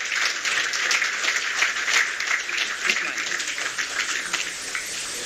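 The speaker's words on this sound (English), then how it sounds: "I'm not satisfied with that round of applause" Applause from an audience at the official launch of the ECOWAS national biometric identity card in Nigeria: dense, steady clapping from a large crowd, moderately loud and sustained, with a voice speaking faintly over it.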